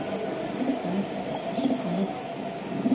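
Two racing pigeons kept together coo softly and repeatedly at close range, with low, rolling calls recurring over a constant background hum.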